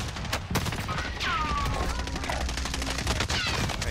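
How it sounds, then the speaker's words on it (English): Rapid video game gunfire, a dense fusillade of sharp cracks and bursts in quick succession, loud and close, with several shots overlapping and faint electronic tones running beneath. "They're shooting behind us."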